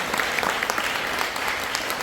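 A crowd gives steady, dense applause at a book launch celebration for an author's 100th book, as the graduate students who ran the event are thanked. The clapping is loud and continuous, with no break.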